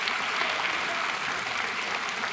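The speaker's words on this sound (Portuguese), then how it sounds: "Pode aplaudir o Senhor." Church congregation applauding during a Portuguese-language sermon, a steady, dense wash of clapping from many hands that fills the whole moment at even loudness, with no voices standing out.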